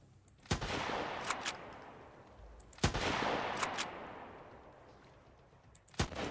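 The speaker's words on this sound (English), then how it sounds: "Wasting my bullets for nothing here." Three loud single gunshots from a gun in the survival game Sunkenland ring out a few seconds apart, each a sharp crack followed by a long decaying roar of echo, with no talk over them.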